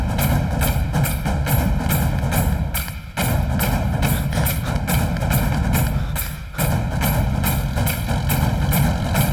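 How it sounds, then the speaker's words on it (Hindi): A tractor engine idles loud and close, a steady rapid diesel chug with a constant throb, briefly dipping twice in level. "ट्रैक्टर रोक।"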